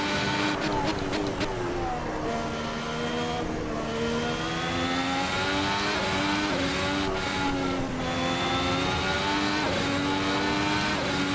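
A Ferrari SF71H Formula 1 car at full throttle in Assetto Corsa, its engine screaming loud and close through rising gear pulls with brief shifts, continuous and dominant throughout.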